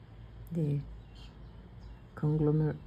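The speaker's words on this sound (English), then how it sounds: "conglomeration of birds." Two brief bursts of bird calls from a gathering of birds in a garden after rain, a short harmonic chirp early and a longer cluster of calls later, over quiet background.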